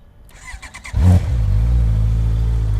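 A Honda CB650 motorcycle fires up after a few starter clicks and settles into a deep, loud, steady idle with a low rumble, close by.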